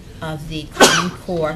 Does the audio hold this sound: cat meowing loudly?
no